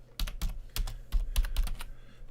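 Typing a terminal command on a computer keyboard, changing into a project folder and pressing tab to autocomplete: a quick, uneven run of close, crisp key clicks in small clusters with brief pauses.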